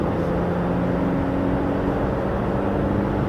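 Interior of a Mercedes-Benz E-Class W214 accelerating through a curve: a steady low engine drone with road and tire rumble, constant and close throughout, with no talking.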